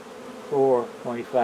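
Honey bees buzz around beehive frames in three short, close bursts of droning hum, each swelling and fading, with no voices.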